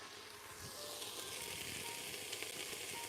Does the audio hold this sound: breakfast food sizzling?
yes